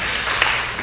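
Audience applause at a fundraiser event, a dense, loud wash of many hands clapping that continues without a break for the whole moment.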